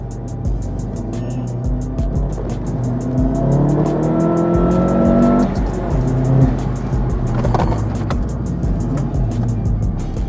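Manual-swapped 340 HP VW Polo GTI engine revving through heel-and-toe downshifts, with loud throttle blips and falling engine notes, close and continuous, plus some tire noise.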